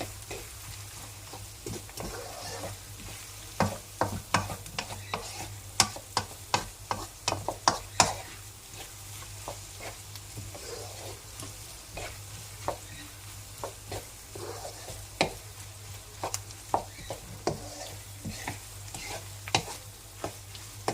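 Onions and tomato paste sizzle softly in a pan while a utensil stirs them, with frequent light scraping and clicking strokes over a continuous low frying hiss, fairly quiet and close.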